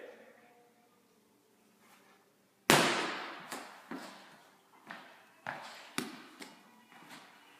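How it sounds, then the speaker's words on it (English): A medicine ball, thrown in a chest pass from a seated squat, lands with a loud sharp slam, then bounces several times with fading, evenly spaced thuds, nearby and alone. "medicine ball, take it from the chest, pushing it out as far as you can"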